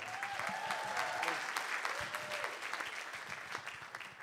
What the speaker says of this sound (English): Give us a big round of applause, man.